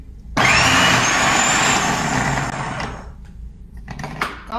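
A food processor fitted with a shredder disc whirs to life and shreds an onion for latkes, a loud steady motor whine that starts abruptly, holds, then tapers off with some clatter at the end.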